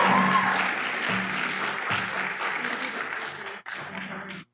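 Audience at a mayoral debate claps after the candidates are introduced, a full sustained round of applause with a low hum underneath, briefly cutting out near the end before resuming.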